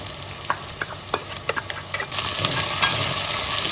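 Chopped ginger and garlic drop into a pan over lightly browned onions, a few sharp stirring clicks giving way to a steady, close sizzle of frying that fills the second half.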